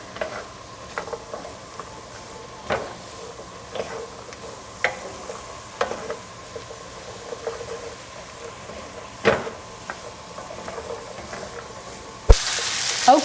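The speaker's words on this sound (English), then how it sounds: "you want the onion to be kind of translucent, that it's kind of caramelized a little bit in that butter" Onion cooking in butter in a pan for turkey pot pie, a soft steady sizzle with occasional light stirring clicks and taps, close and fairly quiet, ending in a sharp louder clatter.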